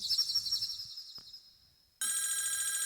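Telephone ring effect from a Casio LK-55 budget keyboard: a trilling electronic bell fades out, then after a short gap a louder, brighter ring starts and continues steadily, heard alone without speech.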